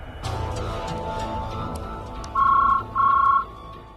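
A telephone rings twice in a TV serial scene, two loud electronic trill bursts sounding clearly over a low background murmur.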